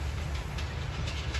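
The 16 Down Karachi Express passes Karsaz railway station with a steady, loud, close rumble of wheels and carriages that holds unbroken throughout.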